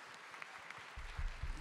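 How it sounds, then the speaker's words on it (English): Applause from a church congregation at a Church of God service, a soft, quiet patter of many hands that lasts about a second and a half, with a few low thumps near the end. "Can we give these a round of applause for who they are"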